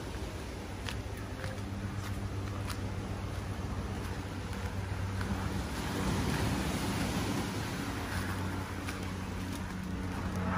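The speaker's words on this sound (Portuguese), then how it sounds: "Olha a praia, galera, que show!" Ocean waves at Cabeço beach in Itapema make a steady broad rush of surf mixed with wind noise on the microphone, continuous and fairly loud, with no talk.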